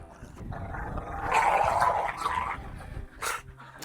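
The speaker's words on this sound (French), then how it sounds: "ça c'est un dialogue de chiens" Two dogs growl and bark back and forth at close range, a rough snarling exchange that swells in the middle and ends with a sharp bark, no talk over it.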